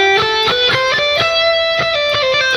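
A guitar plays a short E Phrygian scale run, single plucked notes stepping upward one after another, bright and close with ringing sustain.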